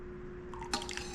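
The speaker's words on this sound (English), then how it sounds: "we're going to start first with the lemon juice, and you want to just pour it slow" Lemon juice pours slowly into milk while making goat cheese, giving a brief soft trickle and dripping splash that starts partway through, close and fairly quiet over a steady background hum.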